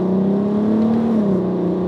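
A VW Golf MK5 R32 with a VR6 engine accelerating gently, its loud exhaust holding a steady droning note that rises slightly and then eases off, close and continuous with no voices.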